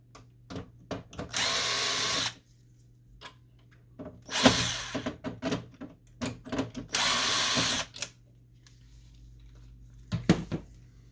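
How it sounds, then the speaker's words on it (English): Power screwdriver backing screws out of the scanner unit of an HP Photosmart C6150 printer: several bursts of loud whirring of a second or so each, separated by clicks and plastic handling noises. "We're going to remove some screws here."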